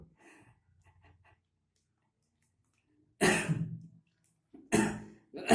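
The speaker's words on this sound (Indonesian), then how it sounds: "Ini kebetulan saya lagi batuk." A person with a cough coughs and clears their throat in two loud, close bursts about a second and a half apart, after a quiet stretch of faint breathing and small mouth sounds.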